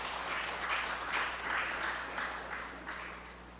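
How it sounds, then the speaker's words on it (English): Applause from an audience at a community conversation meeting in the Patience Hill Community Centre, Tobago, steady moderate clapping from a room full of people, somewhat distant and gradually tapering off. "Give them a round of applause."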